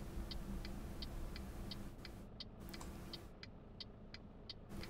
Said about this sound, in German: Also das Blinken muss man hören, oder, als Zuschauer?